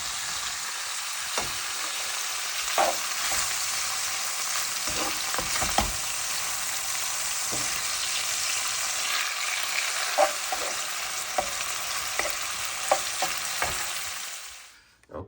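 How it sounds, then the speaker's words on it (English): Minced beef browns in a pan with a loud, continuous sizzle, scattered spatula clicks and scrapes through it, and the hiss fades out at the end. "that is the minced beef browned off"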